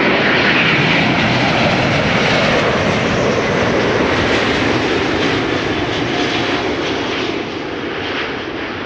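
An aircraft lands at Amsterdam Schiphol Airport, its engines giving a continuous, loud rushing roar that eases only slightly toward the end, with no talking.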